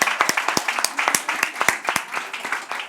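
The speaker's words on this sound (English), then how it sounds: "Round of applause to Ella." An audience applauds at a beauty demonstration of a Dyson Supersonic hair dryer, with a quick run of sharp, close hand claps from a small crowd that holds steady for about three seconds.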